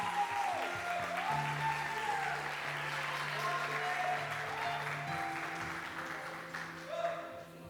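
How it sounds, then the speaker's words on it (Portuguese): A church youth conference crowd applauds to welcome an evangelist onstage: sustained clapping runs throughout while a voice keeps talking over it. "Então vamos receber com muito carinho, com muito aplauso"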